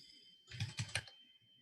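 Someone types on a computer keyboard in a short burst of three or four close, crisp key clacks over a quiet room hum, with no talking.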